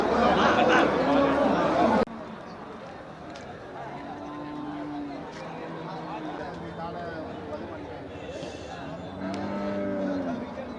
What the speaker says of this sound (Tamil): இது நாட்டு மாடு. நாட்டு மாடு.